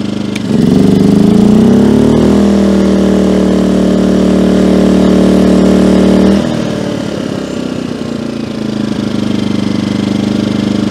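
A Firman 2000/1600 watt inverter portable generator, model W01682, revs up under load with a loud steady drone, then drops back to a lower idle hum after about six seconds.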